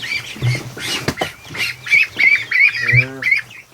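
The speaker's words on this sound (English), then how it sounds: "Look at this duck." Ducks and ducklings in a barn, a close run of raspy quacks and squawks mixed with high peeping calls, loud and irregular, with no talk.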